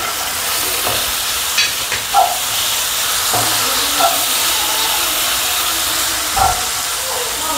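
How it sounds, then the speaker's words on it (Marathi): Garlic dropped into softened tomatoes frying in a pan for a soybean bhaji, giving a steady close sizzle and hiss with a few soft stirring clinks and scrapes. "आता मी लसूण टाकते"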